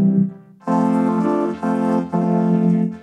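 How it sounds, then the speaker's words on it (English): Ableton Live's Vocoder plugin effect: a loud, rich, buzzy synthetic tone with many stacked harmonics, sounding as three sustained robotic chords after a short muffled onset, alone without speech. "we're taking a look at Ableton Live's VOCODER plugin, which sounds like this"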